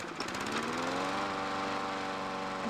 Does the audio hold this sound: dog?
no